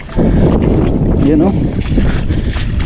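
Strong sea wind buffets the microphone on a fishing boat out on the water, a loud steady roar with someone briefly talking under it.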